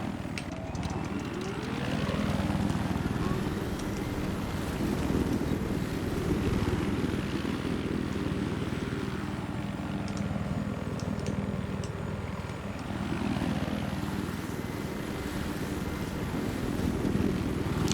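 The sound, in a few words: helicopter flying in the video game Battlefield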